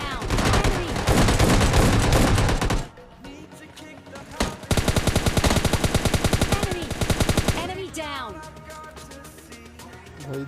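Loud rapid bursts of automatic gunfire in a battle royale video game squad fight, two long sustained volleys separated by a brief lull, with a voice talking over the shooting.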